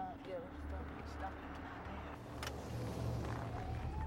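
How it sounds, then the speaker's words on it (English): A brown car approaches as a low, steady engine rumble, faint and partly masked by broadband road and wind noise, with voices talking over it. "Okay, we got a brown vehicle coming."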